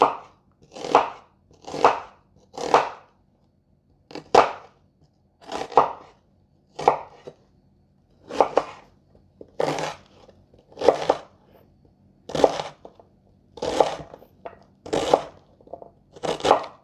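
A knife slices through a purple onion on a cutting board, producing about a dozen crisp, evenly paced crunching cuts with short silent gaps between them.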